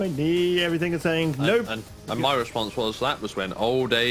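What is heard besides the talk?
No distinct noise like a dog, phone or traffic.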